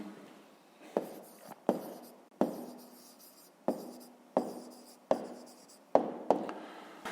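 A pen writes down the answer to a fifth-grade maths word problem. It makes soft, close scratching strokes, with a sharp tap each time the pen meets the paper, about every second.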